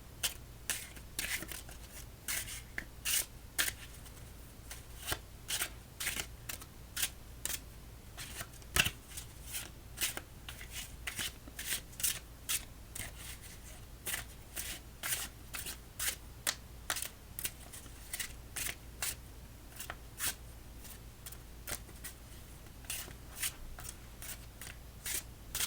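Rapid bursts of playing cards being side shuffled, a steady series of crisp riffling flicks repeating close up with no talking.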